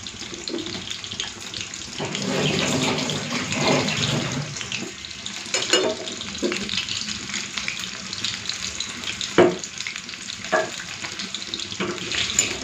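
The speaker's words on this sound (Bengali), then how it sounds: "এগুলো প্রথমে এক পিঠ ভালো করে ভেজে নেব" Lote fish pakoras coated in lentil paste frying in a pan, a continuous close sizzle with a few brief clinks and utensil knocks.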